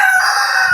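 Short burst of a rooster crowing among several noisy backyard roosters, a single sustained call held loud and close throughout.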